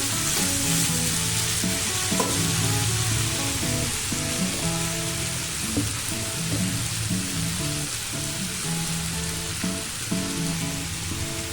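Paneer curry with potato sizzles loudly in a frying pan as it is stirred, a constant close crackle with faint scraping strokes throughout and no talking.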